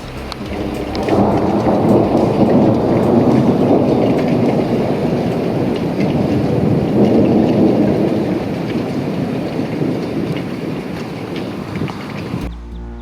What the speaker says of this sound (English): The storm was severe and lasted much of the night.